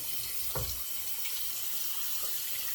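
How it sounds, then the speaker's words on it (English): Hot water runs steadily from a faucet as a razor blade is rinsed beneath it, with a brief clatter early on and a constant hiss of flowing water throughout. "I rinse it out with hot water."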